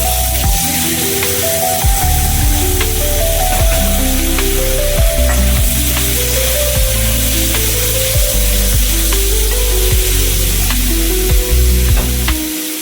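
Mustard seeds, a green chili and olives sizzle loudly in a little oil in a pan, a steady close frying hiss with repeated tapping and scraping of a utensil stirring throughout, no voices.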